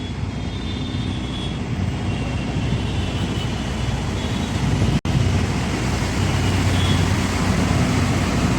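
Dense road traffic in Dhaka, jammed near two side-by-side bridges, reaches a water taxi on Hatirjheel as a steady, loud, unbroken roar of engines and motion, with no one speaking.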